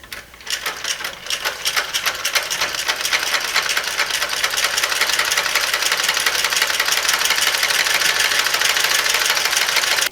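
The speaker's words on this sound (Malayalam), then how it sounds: "ഇനി നമുക്ക് ഈ റോങ് സൈഡിൽ ഇവിടെ ഒരു 1/2 ഇഞ്ച് ഗ്യാപ്പിൽ തയ്ക്കുക." A sewing machine stitches a French seam on fabric, a half inch in on the wrong side, running in a fast, even mechanical rattle that starts after a brief pause and continues loudly to the end, with no voices.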